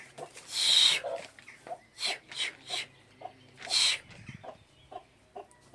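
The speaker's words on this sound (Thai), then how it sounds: "เดี๋ยวขอไปไล่ไก่ก่อนเดี๋ยวไปขี้หน้าบ้านไม่ไหว" Chickens in front of a house cluck in a steady series of short calls, with two louder drawn-out squawks standing out close by.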